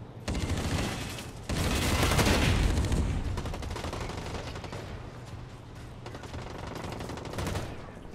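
Rapid automatic gunfire from the online shooter Blacklight Retribution, loud and continuous bursts filling the whole stretch with dense rattling shots and brief gaps, no talking over it.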